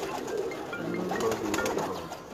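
A pigeon in a loft cooing softly, a few low, rolling coos close by against faint background noise.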